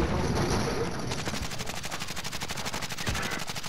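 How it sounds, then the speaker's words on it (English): Rapid automatic gunfire during a Call of Duty: Modern Warfare quads match, a loud, continuous stream of evenly spaced shots filling the whole stretch, close and unbroken. "where am I getting shot from?"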